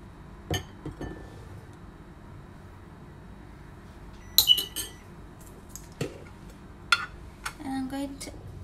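A metal spoon clinks against a glass jar holding homemade coconut oil skincare cream, a few sharp, bright taps scattered at irregular intervals over a quiet room background.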